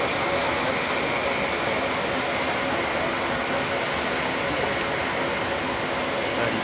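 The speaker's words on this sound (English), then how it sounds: "KC390 Embraer Brazilian Pride" An Embraer KC-390 military transport aircraft displays at the Paris Air Show 2023, giving a constant, dense engine drone that holds steady without breaks.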